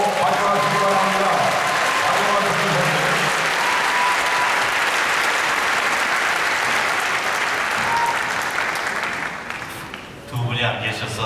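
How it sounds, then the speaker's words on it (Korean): A mission conference audience gives warm, sustained applause to welcome missionaries, a loud, dense wash of clapping that holds steady and then tapers off near the end, with voices and music faintly underneath. "뜨겁게 박수로 환영하시기 바랍니다"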